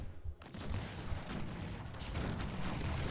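Artillery fire from the video game Cossacks 3 bursts in after a brief quiet start. A dense, continuous fusillade of booms and crackling shots follows at close range and fills the rest of the moment.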